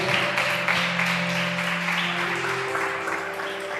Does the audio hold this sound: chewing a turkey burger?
no